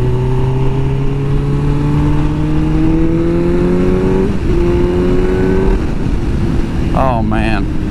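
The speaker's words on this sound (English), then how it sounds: "for an 18-year-old machine that's been sitting since 2015, this transmission shifts beautifully" A 2005 Suzuki GSX-R1000 K5 sport bike pulls hard through the gears, engine pitch climbing steadily, dropping at each upshift and climbing again, loud and close with heavy wind rush, and a brief voice near the end.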